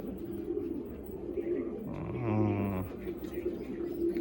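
Pigeons in a loft of Madrasi and Andhra breeds coo with low, throaty, rolling calls, one close coo standing out mid-clip over a steady bed of birds.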